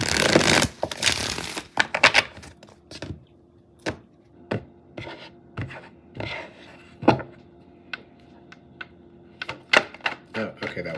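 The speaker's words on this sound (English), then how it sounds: "Let me get one more shuffle." Tarot cards being shuffled by hand, a run of crisp riffling bursts followed by scattered soft slaps and rubs as the deck is cut and squared, close and fairly quiet.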